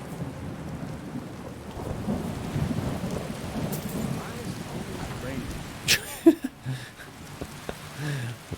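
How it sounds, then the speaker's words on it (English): Rain patters steadily in the video game Skyrim while thunder rumbles low, building midway, then sharp close cracks and rolling booms near the end, with no voices. "Why is it always raining?"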